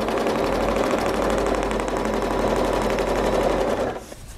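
A sewing machine stitches quilting arcs guided by an Archie ruler, a steady rapid mechanical whir running loud and continuous before stopping abruptly near the end.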